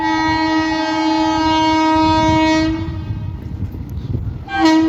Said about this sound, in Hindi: हमारी ट्रेन को जो रोक कर निकाला जा रहा है वो सामने आ रही है।